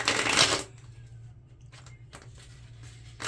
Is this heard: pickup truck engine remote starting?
no